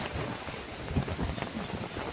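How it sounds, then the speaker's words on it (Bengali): Steady rain falling outdoors, a dense, even hiss with low rumbling wind noise throughout, fairly loud and close, with no voices. "দেখো কত বৃষ্টি পড়ছে"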